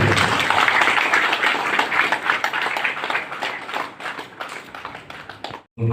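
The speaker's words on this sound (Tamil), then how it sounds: "உங்களுடைய பலத்த கரகோஷங்கள்" An audience at an award ceremony honouring a poet claps in a dense, sustained burst that holds strong for several seconds, then thins and drops off near the end before a final flicker of sound.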